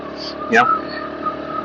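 A Bluroc X-Bongo 125 motorcycle with a full stainless steel exhaust system holds a steady, droning engine note while riding, with a brief louder surge partway through.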